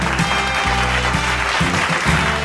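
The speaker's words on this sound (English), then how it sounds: "please put your hands together and give a huge round of applause to Bharat Electronics." Audience applause for award winner Bharat Electronics at the IMTMA ACE Micromatic Productivity Championship Awards, a short, loud wash of clapping in a hall, steady throughout with a low musical or hum layer underneath.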